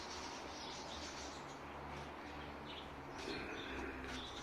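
Pigeons in a loft cage give faint, low, repeated coos against a soft background hiss, with a few light chirps and no speech.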